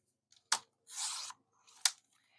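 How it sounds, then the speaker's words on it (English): Scrapbook paper being cut down to a 12 by 6 piece with scissors or a trimmer: two sharp snips and one short sliding cut, close and fairly quiet, with no talking. "But this first paper I'm going to cut, I'm going to do a 12 by 6."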